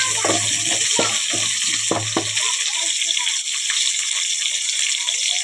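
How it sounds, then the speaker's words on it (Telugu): Koyyanga fish fries in a pan for curry, a steady bright sizzling hiss that runs loud throughout while a voice speaks over it during the first half. "చూడండి వేగుతున్నాం"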